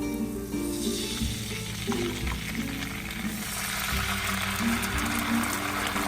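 Sweet bean sauce with ginger slices sizzles in hot oil in a home kitchen: a loud, continuous crackling fry with occasional stirring scrapes, close up and steady throughout.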